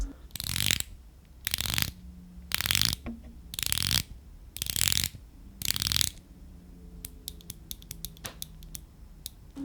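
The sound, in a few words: Seiko Sumo Prospex diver watch 120-click unidirectional bezel clicking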